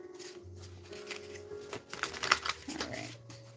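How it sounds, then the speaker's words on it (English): Tarot cards are shuffled close up in short crisp bursts of riffling and sliding, quiet and alone with no talk. "let's get like 2 or 3 more shuffles from here."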